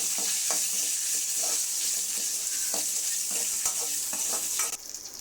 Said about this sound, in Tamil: இது கொஞ்சம் வறுபடட்டும்